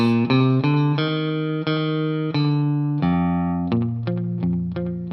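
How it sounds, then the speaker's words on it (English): An electric guitar picks a clean, ringing country melody, single notes and chords with light reverb and a quick slapback delay echo trailing each pluck, played alone and steadily. "now I also have a little bit of reverb and a little bit of slapback delay"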